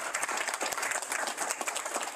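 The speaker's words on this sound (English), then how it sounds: "Let's give them a round of applause." A presentation audience gives a round of applause for island mayors, a dense, even roar of many hands clapping close by, continuous and without breaks.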